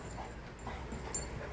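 Dogs whimpering softly indoors, a low continuous whine with faint yips, steady and moderately quiet throughout.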